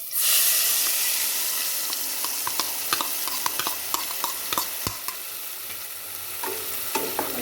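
Spinach mix stirred into palak paneer in a hot pan, giving a steady sizzle with repeated scraping strokes of the spoon, close and fairly loud, with no voices.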